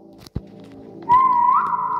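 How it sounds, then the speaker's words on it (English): A person whistles one sustained, rising note in a quiet closed store at night, preceded by a couple of soft footstep-like knocks and thumps. "Because I whistled."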